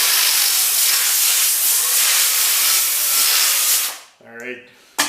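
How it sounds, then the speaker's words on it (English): An air hose blows compressed air during urethane mold work, a loud, steady, close hiss lasting about four seconds before cutting off, followed by a brief voice. "and then I just take an air hose"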